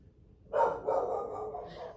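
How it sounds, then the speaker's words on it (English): A dog indoors lets out a short bark that trails into a drawn-out whining yowl, a single close burst lasting over a second against a quiet room. "Sorry about my dog."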